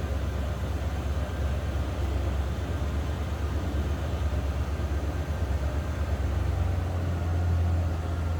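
A 1996 Ford F-150 Eddie Bauer extended-cab 4x4 with a 5.8 V8 and stock exhaust idles nearby, a deep, even low-end rumble with a slight rise in the last couple of seconds, no voices.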